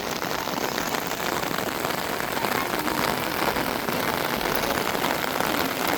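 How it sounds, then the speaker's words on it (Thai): Steady rain pours down and patters on surfaces, a dense, even hiss that holds at the same level throughout with no voices. "ฝนตกอีกแล้วนะครับ"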